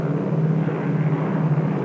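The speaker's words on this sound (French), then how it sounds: "Ce Catalina, un avion amphibie qui a connu ses heures de gloire pendant la Deuxième Guerre mondiale" A Catalina amphibious propeller aircraft from the Second World War era flies with a steady, loud, low engine drone and hum, continuous and without voices.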